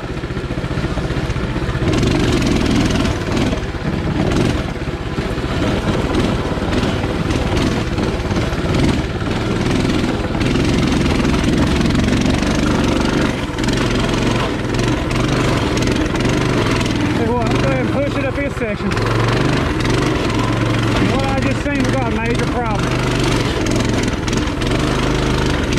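Coleman CT200 mini bike engine runs loud and steady while riding rough single track, revving and bogging in strained bursts with clatter over the motor, close to the rider throughout.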